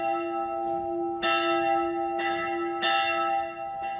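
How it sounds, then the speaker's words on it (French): A monastery church bell rings in slow repeated strokes, each clang blooming and ringing on with a long sustained hum between strikes, clear and alone. "Quand la cloche sonne"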